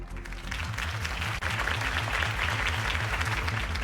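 Crowd applause following Harvey Dent's campaign speech in the Batman Telltale video game, dense steady clapping over a low repeating musical pulse, continuous throughout.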